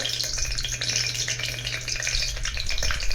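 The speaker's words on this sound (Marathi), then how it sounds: "तुम्ही बघताय मोहरी चांगली तडतडते" Mustard seeds crackle and pop steadily in hot oil in a pan while tempering for Kolhapuri misal, a dense, close, continuous sizzle with no voices.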